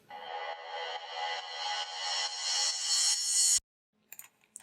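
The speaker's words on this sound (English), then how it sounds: "let's add our third and final sweep on there" A bright synthesized sweep rises steadily in pitch and brightness for several seconds, then cuts off abruptly, followed by a few faint short blips.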